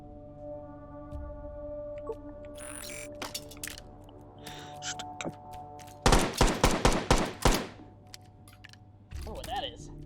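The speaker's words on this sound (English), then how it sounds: "Ooh, submachine gun." A submachine gun fires a rapid, loud burst of about ten shots in the VR shooting game Hot Dogs, Horseshoes & Hand Grenades. Scattered quieter clicks and game sounds come before the burst, and a soft voice follows it.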